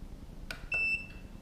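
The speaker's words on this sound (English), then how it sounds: "I push the button, you hear a little beep and the LED is almost off." A budget T12 soldering station gives a single short, clean electronic beep at a button press, preceded by a soft click, in a quiet room.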